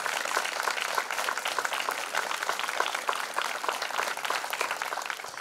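Audience applause at a Zbiroh town celebration, steady dense clapping from a crowd with no break, fairly loud and even throughout.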